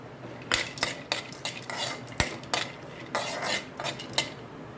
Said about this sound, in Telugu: నెయ్యి జీడిపప్పు బాదంని వేయించుకుంటున్నానండి